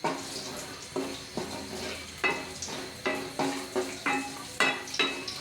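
Whole cloves, torn bay leaves, cardamom pods and cinnamon sticks frying in hot oil, a steady sizzle broken by rhythmic spoon strokes scraping the pan about every half second, close and loud, with no voices.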